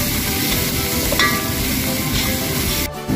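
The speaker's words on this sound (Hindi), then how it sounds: "अब इसमें मैं ऑनियन ऐड कर दे रहा हूँ। इसको भी हाफ सोडेस करेंगे" Onion goes into a hot pan with already-sautéed garlic and sizzles loudly and steadily, with stirring scrapes running through the frying noise close up.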